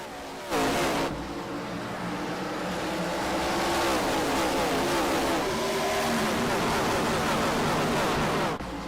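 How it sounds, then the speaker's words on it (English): ARCA Series race cars roaring around Bristol Motor Speedway, a loud, sustained engine drone with rising and falling pitch as the pack passes, heard from close by with no talk over it. "The roar of those race cars, ARCA at Bristol."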